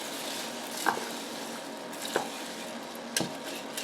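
A wooden spoon stirs elderberries in a pot for syrup, making three soft, separate knocks and scrapes against a quiet background.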